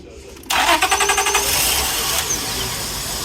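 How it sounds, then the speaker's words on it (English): A car engine with its MAP sensor unplugged is started: silence, then a sudden loud burst of rapid starter cranking pulses that catches into a steady, rough running drone. "And so when we start the engine"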